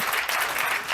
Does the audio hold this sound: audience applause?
yes